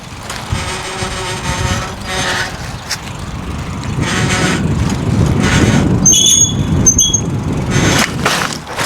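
Bicycle brakes squeal in high-pitched bursts over road and traffic rumble in a Japanese village, a couple of sharp squeaks heard close by.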